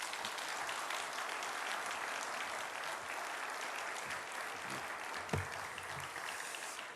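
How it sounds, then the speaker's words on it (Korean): Church congregation applauding at an autumn national fellowship gathering as a pastor comes forward, steady dense clapping filling the room for about seven seconds, with a brief sharper thump near the end. "박수해 주시기 바랍니다"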